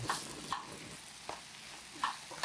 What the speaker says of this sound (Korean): 어느 정도 볶아지면 가지와 계란을 넣고 저어가면서 계란을 익혀줍니다.